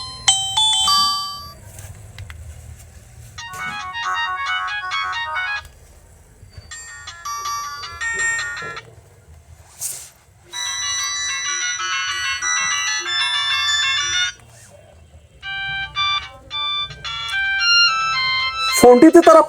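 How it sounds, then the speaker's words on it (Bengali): Several ringtones from a Symphony D90 mobile phone play one after another: bright, melodic electronic tone sequences in short bursts separated by brief pauses, loud and close, with a low background hum beneath. "ফোনটিতে তারা 5টা রিংটোন দিয়েছে"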